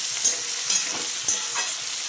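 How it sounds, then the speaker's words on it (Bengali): Onions, tomatoes and green chillies frying in a pan, with a steady close sizzle and a few soft stirring scrapes at regular intervals. No voices. "এবার দিয়ে দিলাম টমেটো আর পেঁয়াজ হালকা ভাজা ভাজা করে নেব"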